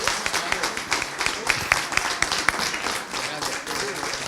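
An audience applauds at a Parti Québécois political gathering welcoming a new member: dense, steady clapping with scattered sharp claps, close and continuous, with faint voices mixed in.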